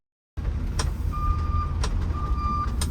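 A car idles with a low, steady engine rumble, close and fairly loud. A thin electronic chime sounds twice in short stretches, and a few brief clicks come over the engine.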